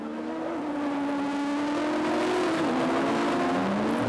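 Race cars in the Andros Trophy ice race at St Dié in 2010 corner at speed, with a loud, sustained engine whine that climbs and dips in pitch as the cars sweep through the bends.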